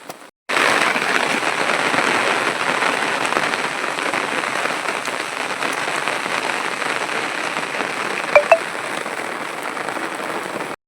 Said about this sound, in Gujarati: આમ વરસાદ ધોધમાર શરૂ થઈ ગયો છે